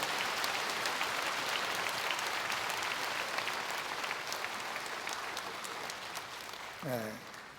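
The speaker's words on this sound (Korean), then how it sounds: "여러분 그 박수로 환영하시죠" A church congregation applauds to welcome visiting guests with dense, continuous clapping that slowly tapers off, and a brief voice is heard near the end.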